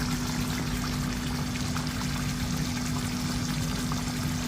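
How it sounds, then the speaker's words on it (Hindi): Ground tomato purée pours into mutton frying in a pan for dhaba-style bhuna mutton, a dense continuous sizzle and pour filling the whole stretch with no talk. "2 टमाटर ग्राइंड करके इसमें ऐड कर देंगे।"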